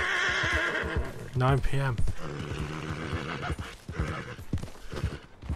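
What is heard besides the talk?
horse neighing and hooves, from the video game Red Dead Redemption II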